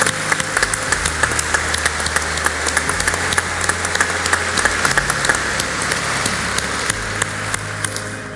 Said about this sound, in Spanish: Así que un aplauso a Nacho.